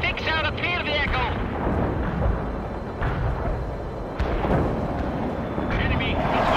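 Cluster bomb explosions in World in Conflict, a series of booming blasts and rumbling impacts layered with battlefield noise, while radio voices talk over the top.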